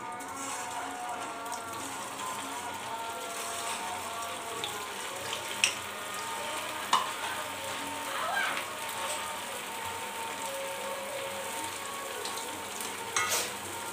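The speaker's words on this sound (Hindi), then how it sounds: "तो चलिए इनको फ्राई कर लेते हैं पहले" Suji gulab jamun balls fry gently in oil over a low flame, making a continuous soft bubbling sizzle with a few faint clinks scattered through it and no one talking.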